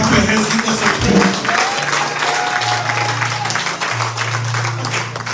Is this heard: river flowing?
no